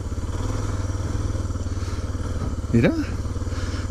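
A motorcycle engine drones steadily on a sandy desert road near Cataviña, with a short clattering jolt near the end and a rider's voice briefly heard over the rumble.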